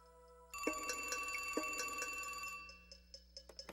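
Telephone ringing with a bright, rapid electronic bell trill that sounds for about two seconds, fairly close and clear, then stops and leaves a few faint clicks.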